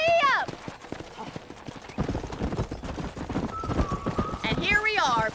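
Horse hooves clip-clopping at a steady riding pace on a ranch in the game Red Dead Redemption, with a whinny near the start and end and a voice urging the horse on over the rhythmic hoofbeats.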